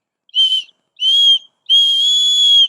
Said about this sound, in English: you get your whistle out, okay? And you blow that whistle 3 times